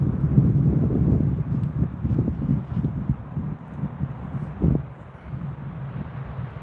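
Strong gusts of wind buffeting a microphone outdoors, a heavy low rumbling roar that swells and dips in uneven surges, close and fairly loud throughout.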